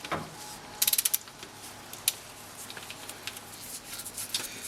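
An oil filter remover is turned counterclockwise on the canister-style filter of a Toyota Tundra. A burst of rapid ratcheting clicks comes first, then scattered faint clicks and tool knocks over a quiet background.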